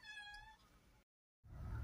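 Small cats meow near the mic, with a couple of thin calls, then a short gap before a louder rush of noise.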